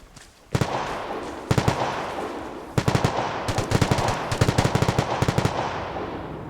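Bursts of rapid automatic gunfire in a video game, loud and close, coming in several separate volleys with short pauses between them and one long sustained burst.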